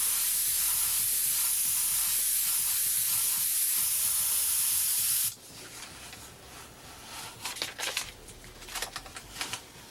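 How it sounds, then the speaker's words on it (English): An airbrush spraying paint gives a steady, bright hiss for about five seconds and then cuts off abruptly, leaving quiet handling noises and faint clicks. "I'm going to put that spray right through there again, nice wide spray"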